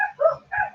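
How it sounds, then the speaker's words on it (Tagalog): A dog barks and yelps in short bursts at home, two quick calls close by. "Sorry na guys sa maingay na aso"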